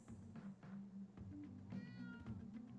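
A cat meows in the video game Life is Strange True Colors, giving a few short, faint mews over a quiet game ambience with a low steady hum.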